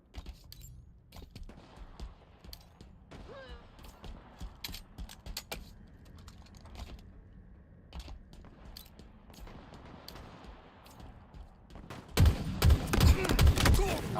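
Rapid bursts of gunfire from a ranked match of the Halo video game, with scattered shots and mechanical clicks through most of the clip before a loud, dense volley near the end.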